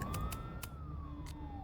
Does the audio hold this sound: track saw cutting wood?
no